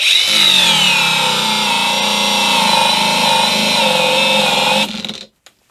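A budget Leader angle grinder runs at full speed with a loud, steady high-pitched motor whine that holds for about five seconds, then cuts off and winds down abruptly to silence.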